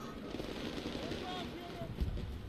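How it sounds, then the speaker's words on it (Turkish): Fireworks in the video game Warface pop and crackle in a steady, dense barrage, with a voice talking over it. "Aman ya Rabbi, havai fişek."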